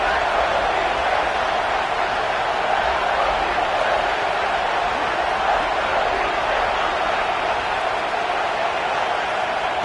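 A big college football stadium crowd roars continuously near the goal line on a defensive stand, a dense steady wall of cheering and noise throughout that stays loud and even from start to finish.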